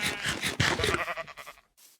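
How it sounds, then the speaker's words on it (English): Sheep in a video game bleat in a loud, close, wavering cry lasting over a second, trailing off into a faint final bleat. "A lot of sheep here too, and animals."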